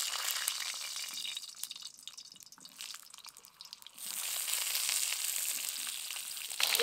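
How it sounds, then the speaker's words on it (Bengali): Seeded pointed gourd (potol) frying in mustard oil in a kadai crackles and sizzles steadily, dipping quieter for a few seconds before surging back into a loud, dense hiss. "প্রথমে এই বীজ বের করে রাখা পটলগুলোকে হালকা করে তেলে ভেজে নেব"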